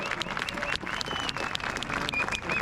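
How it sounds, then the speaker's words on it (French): Crowd applauding loudly at a national peace march rally in Paris, dense continuous clapping with some cheering mixed in, sustained throughout. "Merci beaucoup à Monsieur Jacques Cheminade qu'on peut applaudir très fort, une fois de plus."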